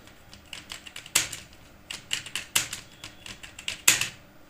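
Fast typing practice on a computer keyboard, a steady run of close, crisp key clicks with several louder, sharper strokes standing out in the pattern.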